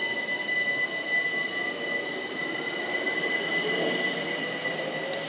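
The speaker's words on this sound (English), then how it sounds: "now getting ready to depart is the 1526 London Overground service to West Croydon" A London Overground class 378 electric train pulling out of Brockley on the Brighton main line, steady high-pitched wheel squeal and motor whine over a continuous rolling hum, moderately close and without talk.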